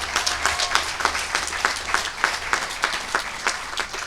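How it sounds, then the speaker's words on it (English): Graduation audience clapping in a large hall, a close, loud run of sharp individual claps in a quick even rhythm over a softer background of many hands. "Well, you can clap for that,"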